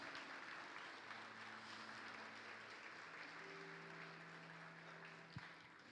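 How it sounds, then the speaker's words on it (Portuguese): A church congregation applauds during a Christmas sermon, a steady wash of distant clapping under a low hum with a faint sustained tone and one brief thump near the end. "Aplaude o Senhor."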